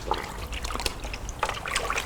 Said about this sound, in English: I will take my new wash pad, soak it in the water